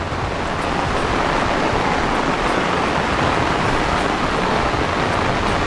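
Floodwater of a swollen river rushes under heavy Konkan monsoon rain, a dense, steady roar of water that fills the whole clip without a break, loud and close.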